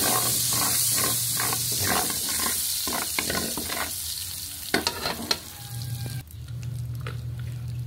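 Turkey caldereta stirred and sautéed in a pan, a steady loud sizzle broken by repeated scraping strokes of the spoon against the metal, close up with no talking.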